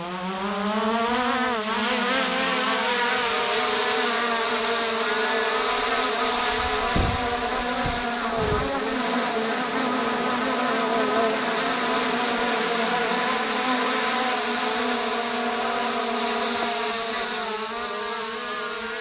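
A Skydio 2 drone spins up and lifts off near the Snake River Canyon, its loud, close buzzing whine of rotors rising in pitch at takeoff and then holding steady while hovering, with a few brief thumps.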